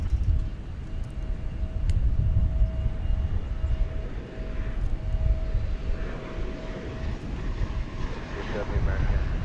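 A fixed-wing airliner arrives at DFW International Airport, its engine roar a continuous low rumble that holds steady and swells slightly toward the end, heard from a distance with a faint whine running through it.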